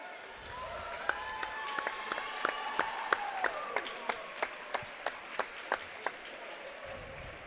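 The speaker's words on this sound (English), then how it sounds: "Fans, let's give the teachers a big round of applause" Crowd applause for teachers standing at a varsity volleyball game in a school gym, steady clapping with sharp accented claps, under a faint murmur of the crowd.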